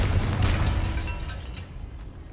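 Casting Confringo in the video game Hogwarts Legacy sets off a fiery explosive burst, a loud booming blast right at the start that rumbles and gradually fades away.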